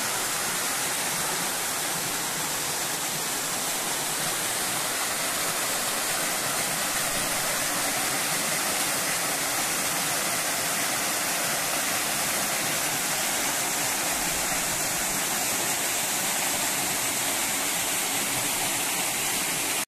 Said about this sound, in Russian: Здесь находится маленький водопад